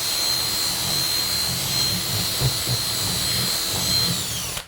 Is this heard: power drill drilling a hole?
yes